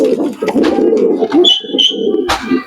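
Racing pigeons coo close by in soft, throaty, rolling bursts, with a couple of brief higher chirps mixed in.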